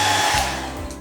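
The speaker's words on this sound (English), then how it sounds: "Definitely get a cheap blow dryer." A cheap blow dryer blasts air steadily to dry paint on tabletop gaming brick pillars, a loud continuous whoosh with a low motor hum that eases slightly partway through, heard alone with no talk.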